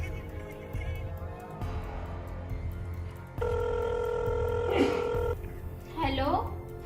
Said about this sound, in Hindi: फोन लगा जरा